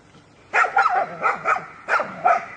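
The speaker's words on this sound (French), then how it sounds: "un chien dévoué est resté aux côtes de l'ours pendant toute la durée de la visite" A dog barks beside a bear in a city street, several sharp, fairly close barks arriving in two quick clusters after a brief quiet start.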